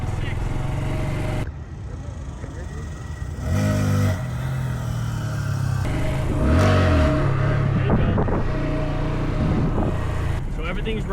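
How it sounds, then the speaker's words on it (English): Motorcycle engine revving in repeated bursts as a rider learns to wheelie, throttle climbing and dropping at close range with wind and outdoor noise, a voice talking intermittently over it. "You're revving it up and letting the clutch out a little bit too soon"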